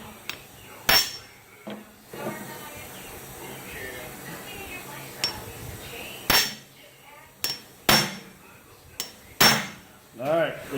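Sharp hammer blows on valve spring retainers of a 351 Cleveland V8 cylinder head, knocking the keepers loose; about ten irregular metallic strikes, some single and some in quick pairs, close and loud over quiet shop background.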